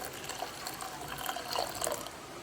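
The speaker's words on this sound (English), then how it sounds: "Over our handful of Cerasee, we're going to pour about 3 cups of hot water." Hot water poured into a teapot over a handful of cerasee leaves, a soft, steady trickling and splashing that swells slightly midway, quiet and alone.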